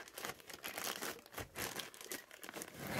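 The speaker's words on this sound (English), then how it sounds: "It's in this plastic bag." A plastic bag crinkles and rustles in irregular bursts as a toddler airplane bed is unpacked, close and fairly quiet with no talking.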